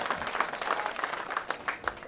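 An audience claps at a mushaira poetry gathering in Sakinaka, Mumbai, a steady patter of hand claps from a crowd with individual claps popping out, heard alone without speech.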